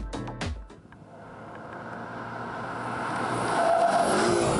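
A Porsche 718 Cayman GTS with a 2.5-litre turbo engine accelerates on a race track, rising from a brief initial burst into a steadily building engine roar with a faint tire squeal, heard alone and moderately loud.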